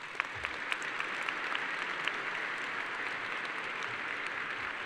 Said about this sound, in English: please give all of our retiring teachers and staff a round of applause